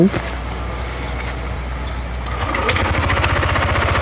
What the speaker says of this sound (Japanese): セルの音に注目です